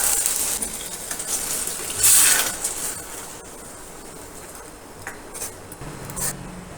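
Water poured from a mixer jar into a pan of white peas kurma with masala: a brief gushing pour near the start, then quieter sizzling with small clinks and taps, close and without talk.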